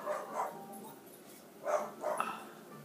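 A small dog barks inside a house, giving a few short, yappy barks in two bursts, somewhat distant and moderately quiet.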